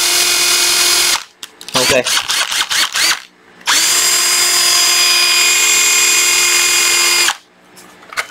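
A cordless drill whirs with a steady high whine, then stutters through a series of short bursts as its speed control and reverse are tried, before running again in one long, even whir; a brief word is spoken.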